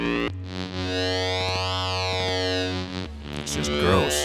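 A Behringer Neutron analog synthesizer plays a gross, distorted, horror-style drone for a metal mix, thick buzzing harmonics swooping up and back down before a lower gritty tone takes over, loud and close.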